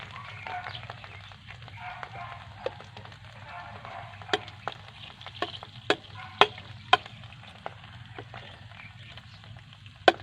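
Sardines and egg frying in a pan with a steady sizzle, broken by sharp clacks and taps of a spoon stirring, louder knocks near the end.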